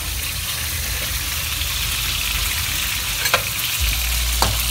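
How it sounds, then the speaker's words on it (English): Scallops fry in butter on a hot cast iron pan with a steady, close, broadband sizzle. A couple of sharp clicks come through, and a low hum joins near the end. "Now time to cook our scallops on that hot cast iron pan."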